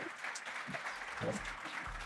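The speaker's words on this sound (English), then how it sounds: "A round of applause, please, for them." Steady applause from a conference audience for a panel of speakers, a continuous dense wash of clapping heard at moderate distance with faint voices mixed underneath.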